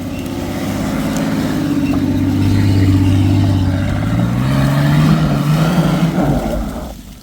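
A Mitsubishi Pajero engine revs loudly and steadily, its pitch climbing and falling over several seconds before cutting off abruptly at the end, with no talking.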